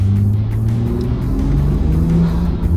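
Turbocharged Nissan Skyline engine revving at a night car meet in Osaka, a loud, steady low rumble with rising and falling harmonic tones throughout, no talking.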